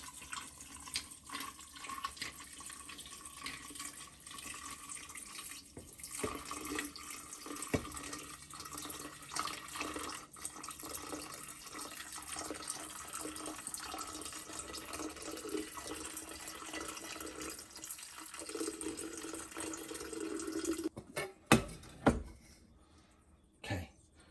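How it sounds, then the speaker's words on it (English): Basil iced tea poured slowly from a lidded container over ice, a long steady trickle close by, ending in a few louder splashes and clinks, with a brief cough partway through. "we're going to start pouring it slowly over the ice"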